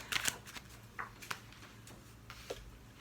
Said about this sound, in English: So I shuffled really weird.